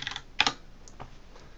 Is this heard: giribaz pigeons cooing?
no